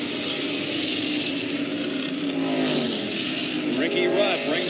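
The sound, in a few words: race car driving through the S-curves during a NASCAR race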